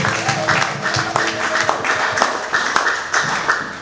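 A church congregation claps together in praise of the Lord, sharp, regular handclaps ringing out in a steady rhythm over a sustained tonal backdrop, with a voice speaking now and then.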